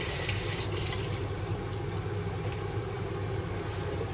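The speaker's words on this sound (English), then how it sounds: "I'm going to add small water." Water running steadily from a kitchen tap while cooking frozen spinach vegetable soup, a continuous loud rushing stream with no talking.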